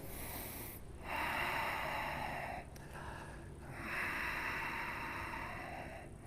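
Slow deep breaths during a yoga class for runners, two long airy exhales heard close and soft over quiet room noise, with no talking.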